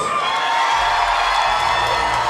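Crowd at an amateur mixed martial arts event cheering a fighter making his way to the cage, a loud, sustained roar of voices and whoops filling the venue for a couple of seconds.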